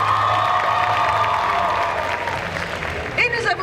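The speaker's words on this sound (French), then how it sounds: "Je vous demande de l'applaudir encore une fois, Kalsara." Audience applause and cheering greet a cosplayer at a Made in Asia 2023 cosplay event, with a crowd murmur and scattered shouts under voices, and a brief whoop near the end.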